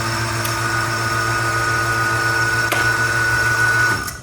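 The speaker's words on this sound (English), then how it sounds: "this guy's sole job in life is to keep turning the vacuum pump on to maintain vacuum" A vacuum pump for a CNC machine's vacuum table runs with a loud, steady mechanical hum and a whine that holds for about four seconds, then cuts off sharply near the end.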